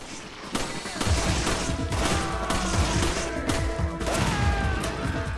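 Rapid gunfire from a weapon in Resident Evil 5 rattles in dense, close bursts throughout, a continuous crackling barrage with heavy low thumps, and a voice comes in briefly.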